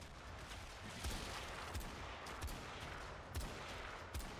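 Gunfire in the shooter game Warframe during a player duel on Mars, dense rapid bursts of automatic shots with recurring heavy thumps, loud and sustained throughout.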